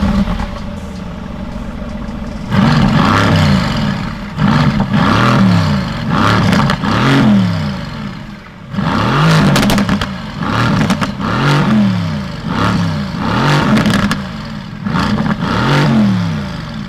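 A Mercedes-AMG GTS with a full stainless steel exhaust revs repeatedly and loudly at close range, with about a dozen sharp blips that each rise and fall back, separated by short idle pauses.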